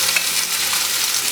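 Tofu coated in cornstarch fries in oil with a steady, close sizzle and brief stirring scrapes throughout a short stretch, with no one talking.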